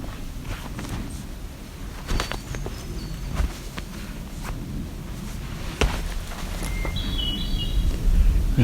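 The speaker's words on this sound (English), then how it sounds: "We're gonna stop and listen to this bird now." A bird calling outdoors at Barrow Bay, with a few short, faint chirps over footsteps and quiet ambient noise, rising a little near the end.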